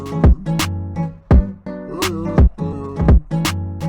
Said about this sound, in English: Then I added some claps